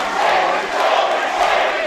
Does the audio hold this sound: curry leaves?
no